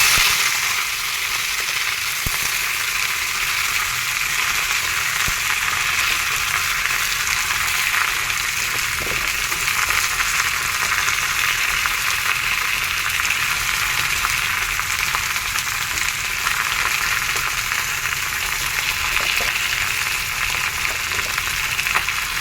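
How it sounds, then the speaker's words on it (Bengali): Vegetables frying in hot oil with dried red chillies give a loud, continuous sizzle close by, an even hiss with scattered pops that holds steady for over twenty seconds without talk. "এবার আমি সবজিগুলো একে একে দিয়ে দেবো।"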